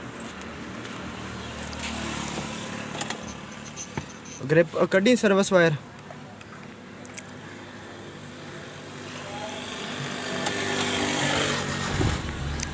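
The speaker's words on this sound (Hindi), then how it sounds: "अब गाड़ी को हम स्टार्ट करेंगे।" A Suzuki Mehran car, with its throttle position sensor plug removed and the check engine light on, cranks in a short burst of rapid pulses and then settles into a low, steady idle while someone talks nearby.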